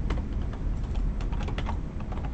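Steady typing on a computer keyboard during a live C# coding session, with rapid, continuous key clicks that are close and clear throughout, with no voices.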